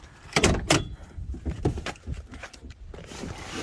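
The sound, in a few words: opening the back door of a GM vehicle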